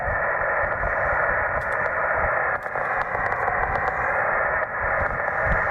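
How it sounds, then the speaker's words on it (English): Radio receiver hiss tuned in about three football fields from a wind farm: a steady, dense wash of static with faint clicks and brief dips, continuous and fairly loud throughout. "It is a lot of noise, but it kind of sounds like atmospheric noise."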